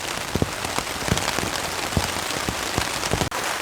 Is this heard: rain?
yes